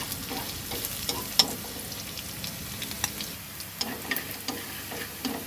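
Minced garlic and shallots sizzle steadily in hot oil, a soft crackling hiss with occasional light ticks and pops, close and continuous.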